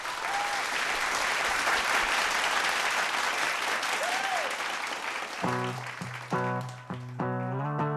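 An audience at a televised vocal competition applauds a singer with dense, steady clapping for about five seconds before it thins out and a piano-backed song begins underneath.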